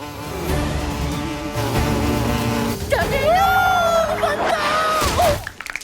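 Deadly wasps buzz in a game show challenge, a loud wavering drone mixed with voices and other show sounds.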